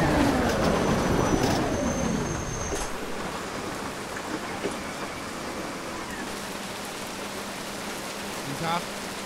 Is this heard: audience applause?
no